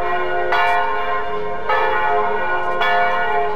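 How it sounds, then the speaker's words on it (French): Cathedral church bells ring in repeated strong strikes, each leaving a long resonant ringing tone that sustains and overlaps, loud and steady throughout a village festival of traditional crafts in Vence, with no talk. "Tout ça sous le son des cloches de la cathédrale."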